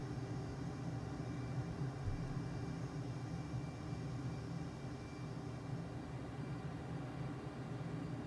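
Steady, loud roar of a jet engine running on afterburner in Microsoft Flight Simulator, a constant broadband rumble that holds unbroken throughout with no talking.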